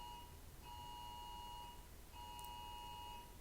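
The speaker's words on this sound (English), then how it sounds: "I must have an Amber Alert. I hear my phone going off in there." Phone going off with an Amber Alert, a steady electronic tone pulsing in long beeps with short gaps, faint and muffled as if from another room.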